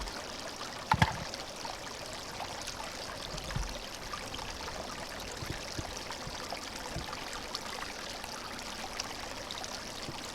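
Creek water runs in a steady, soft wash with faint trickling, continuous and close by, with a brief handling clatter near the start.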